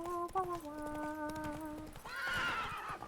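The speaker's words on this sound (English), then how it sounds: "Horsey!" A horse lets out a loud, close whinny, first a steady tonal call and then a rising, shaky neigh, with soft hoof clip-clops underneath.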